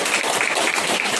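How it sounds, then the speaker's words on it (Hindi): Morning audience at a Shivratri celebration applauding, a dense wash of clapping that holds steady and fairly loud through the short moment, with no voices on top. "तालियां अपने लिए बजाएंगे"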